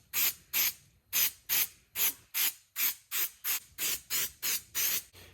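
Silicone spray is applied to exhaust heat wrap on a Banshee-swapped supermoto in about thirteen short, sharp hissing bursts with brief gaps between them, close and fairly loud, with no talking.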